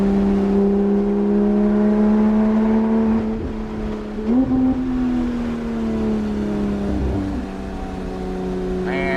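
Porsche 991.1 GT3 RS sports car on the Cherohala Skyway in the Smoky Mountains, its engine holding a steady drone with a shift and rising rev partway through, loud and close throughout.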